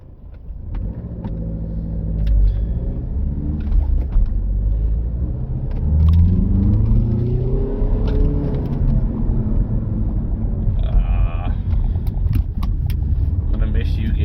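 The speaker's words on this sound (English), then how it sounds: "Judging by this traffic" Steady low engine rumble from inside an older car, a VW CC on its final drive, moving through road traffic, with a person talking over the continuous drone.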